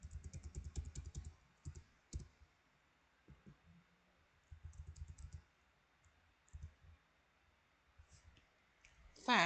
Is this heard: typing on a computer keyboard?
yes